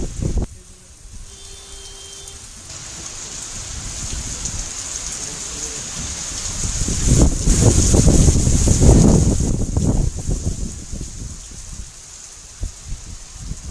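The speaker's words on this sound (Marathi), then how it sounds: "अपेक्षेनुसार आज हा पाऊस पडला।" Rain from a sudden afternoon shower in Maharashtra, a broad rushing hiss that builds to a heavy downpour midway, with gusts and scattered splashes before easing off.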